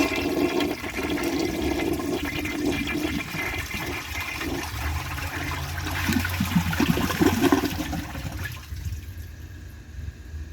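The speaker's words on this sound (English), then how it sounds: "The flush cuts off a little quicker than I'd like" A 1983 American Standard Plebe toilet flushes, a loud rushing gurgle of water that drains and then cuts off fairly abruptly, leaving a quieter trickle and refill hiss at the end.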